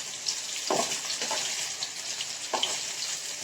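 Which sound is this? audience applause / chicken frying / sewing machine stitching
chicken frying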